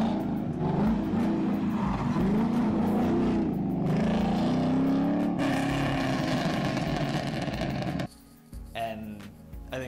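An LS2 V8 engine in a Nissan 240SX with a custom exhaust and tune revs hard, a loud rising and falling roar that holds steady, then cuts off abruptly near the end.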